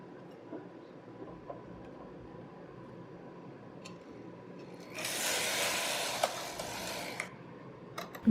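A knitting machine carriage is pushed across one row of a set-in sleeve crew neck sweater, a quiet spell of faint clicks giving way to a brief, louder rushing swish near the end.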